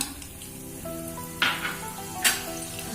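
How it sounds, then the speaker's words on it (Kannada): Mustard seeds and urad dal sizzle in hot oil, a steady close crackle with two sharp bursts as more dal drops into the pan; no one speaks. "ಈಗ ಸಾಸಿವೆ ಸಿಕ್ಕಿದೆ, ಅದಕ್ಕೆ 1 ಸ್ಪೂನು ಉದ್ದಿನಬೇಳೆ ಹಾಕೊಳ್ಳೋಣ"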